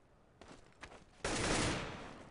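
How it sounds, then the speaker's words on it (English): Automatic AK-47 fire in a Counter-Strike match rattles out in a dense, loud burst that takes over the second half, after a couple of shorter, quieter shots. "Nice AK-47 kill by Stav."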